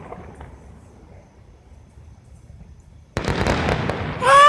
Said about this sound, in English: Well, you can see the fireworks.